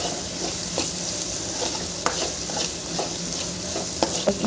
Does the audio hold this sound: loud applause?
no